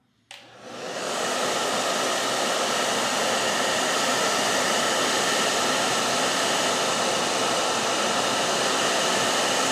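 Hair dryer blowing steadily and loudly while a brush curls a fringe back during a DIY haircut, switching on abruptly and then holding a constant, even roar with no talk.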